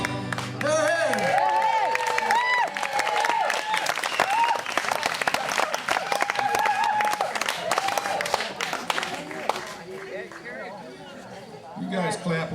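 Live audience applauding throughout at a union gathering after a sung rendition of Solidarity Forever, dense steady clapping with crowd chatter and scattered voices mixed in, thinning toward the end.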